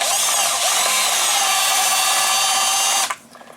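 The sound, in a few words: power drill driving oval headed screws into a switch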